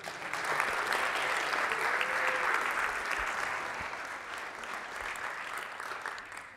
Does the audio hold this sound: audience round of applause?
yes